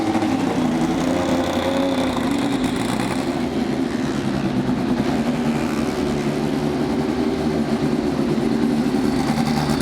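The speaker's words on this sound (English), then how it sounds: "gentlemen, start your Mazda engines." Mazda-powered race car engines at the 2018 Freedom 100 start together on command, a loud, steady, layered rumble of several motors idling and revving with no pauses through the whole stretch.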